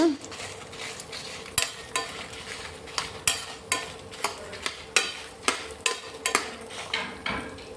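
Ginger pieces and garlic cloves frying in a pan on a low flame for a chicken curry, a constant sizzle punctuated by regular, repeated scraping and tapping strokes of a spoon against the pan, close up.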